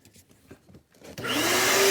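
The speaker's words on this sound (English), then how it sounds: "And then you would just take the vacuum cleaner" Vacuum cleaner used to clean out the fans of an HRV unit, switching on after a second of faint handling noise and rising into a loud steady whine with a climbing motor tone.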